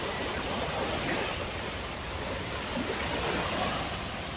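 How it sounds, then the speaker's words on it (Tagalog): Ocean waves wash onto a beach during a school beach clean-up, a constant broadband roar of surf, steady and fairly loud with no voices over it. "Pag naririnig nyo yung ugong ng tubig oh."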